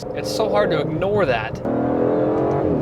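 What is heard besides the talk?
Aston Martin DBS Superleggera V12 engine revving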